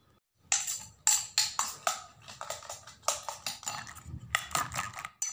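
Onions, green chillies, tomato, coriander, butter, chilli powder, salt and eggs are stirred together in a bowl for a butter omelet, giving a run of quick, close clinking and scraping strokes in an uneven rhythm with no talk.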